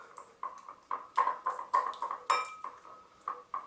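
Garlic butter with parsley is mixed in a bowl, producing a series of soft metallic clinks and taps from a utensil against the dish, repeated in quick, uneven strokes.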